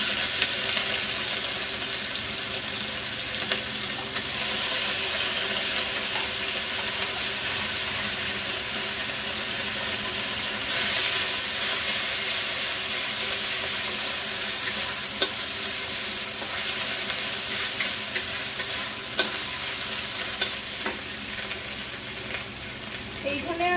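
Cumin seeds sizzling in hot oil in a pan while being stirred, a steady bright crackling hiss throughout with occasional scrapes and clicks of the utensil.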